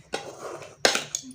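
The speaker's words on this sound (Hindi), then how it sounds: "ये ना पूरा अच्छे से मिला दूँ ताकि एक जो कलर है ना वो पूरा अच्छा से मिक्स हो जाए।" A spoon scrapes and clanks against a pot while stirring and mixing biryani, a few metallic knocks and scrapes, close and fairly loud.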